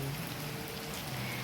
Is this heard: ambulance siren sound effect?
no